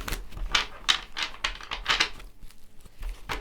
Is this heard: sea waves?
no